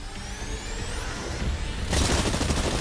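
Gunfire at targets in the video game Exoprimal: a faint whirring build-up gives way abruptly to a dense, loud burst of rapid shots that carries on to the end.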